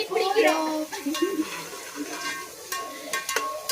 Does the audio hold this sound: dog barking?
no